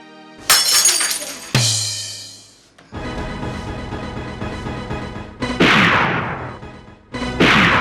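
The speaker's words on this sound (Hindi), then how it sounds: "किसने तोड़ा ये गिलास?" A drinking glass shatters loudly close by in a domestic scene, with a bright crash and tinkling shards, followed by further crashing and breaking impacts.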